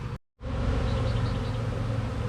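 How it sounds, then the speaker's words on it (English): Honey bees tumbling en masse from frames shaken into a box while making a cell builder, a dense, steady close-up buzz that continues after a brief dropout near the start. "a lot of frames into this box. You can see it bubbling over with bees."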